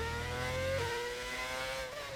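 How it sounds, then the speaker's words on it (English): A V6 race car engine in a racing video game drones steadily at high revs at the Brazil circuit, with a brief pitch dip partway through, loud and continuous with no talking. "Definitely a V6."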